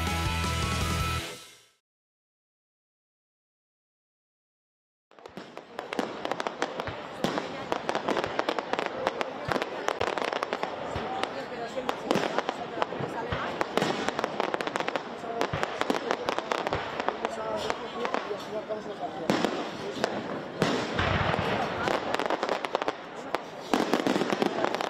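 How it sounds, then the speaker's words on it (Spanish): A fireworks display bursts at night over Logroño, a dense, continuous barrage of loud cracks and booms after a short silence, with faint voices underneath. "vamos con los fuegos artificiales, que ya están sonando en la noche logroñesa"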